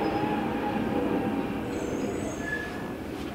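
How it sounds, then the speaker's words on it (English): A heavy truck passes outdoors with a steady, loud low rumble and brief high squealing tones, fading slightly toward the end with no talking. "I don't know what kind of truck that was"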